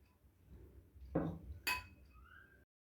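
A plate is set down for serving Cantonese chicken and rice: two distinct ceramic clinks, a dull knock followed by a brighter ring, close and clear in a quiet kitchen.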